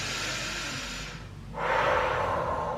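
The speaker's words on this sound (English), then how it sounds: "Take a nice deep breath." A deep breath taken during a Pilates abdominals and glutes exercise: a long airy inhale followed by a stronger, louder exhale, close and breathy, with no talking over it.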